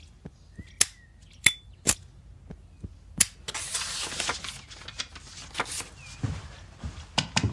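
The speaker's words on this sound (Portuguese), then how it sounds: "ele vai testar o isqueiro, vai bater a carta 2 vezes e isso vai construir a trilha sonora da cena" A lighter is flicked and a card is tapped twice in a film scene: a series of sharp, close clicks and taps, then a burst of rushing hiss with more scattered clicks. No one speaks.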